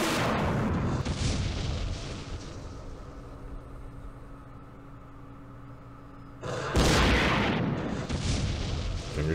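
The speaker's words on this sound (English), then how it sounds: "Freaking recoilless rifles" Recoilless rifles firing in the Middle East wargame Campaign Series, heard as loud booming blasts, one opening the clip and another near the end, with a long rumbling tail between them.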